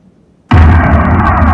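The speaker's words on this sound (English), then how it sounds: "Explosion." An explosion sound effect from a Roland G-70 keyboard bursts in suddenly after a short silence. A loud, deep, rumbling blast sustains to the end.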